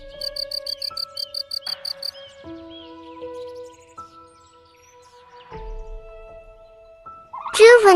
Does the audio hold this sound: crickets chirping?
yes